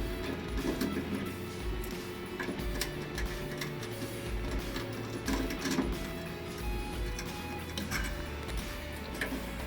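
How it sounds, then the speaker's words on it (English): Two screws being removed from a belt tensioner on a Hydra 16A machine: faint, close mechanical ticking and clicking with a light whirring, steady throughout. No one speaks. "Start by releasing tension on the pulley. Remove these two screws."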